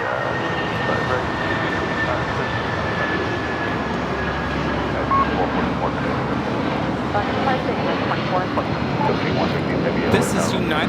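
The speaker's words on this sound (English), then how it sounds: "2444 taking off to Newark on the 757-200" United Airlines Boeing 757-200 taking off from Los Angeles LAX toward Newark, a broad steady jet engine roar holding loud and constant throughout, with a faint thin whine riding over it.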